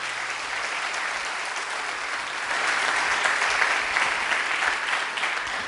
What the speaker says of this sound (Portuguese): Aplauda o Senhor Jesus bem forte aí.